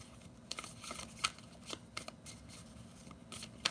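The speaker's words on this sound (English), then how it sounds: "almost done shuffling" Tarot cards being shuffled at a table, a series of soft riffles and sharp papery snaps at irregular intervals, close and quiet with no voices.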